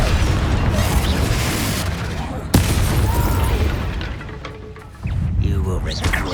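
A Confringo blasting spell from Hogwarts Legacy goes off with a sharp, loud burst, in the middle of dense game combat noise and music that continue around it without pause.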